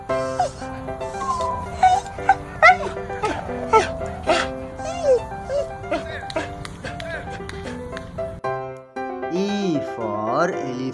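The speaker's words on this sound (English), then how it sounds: "D for dog." A dog barks and yips repeatedly amid a busy, cheerful background of music and voices, followed by a wobbling, siren-like tone at the end.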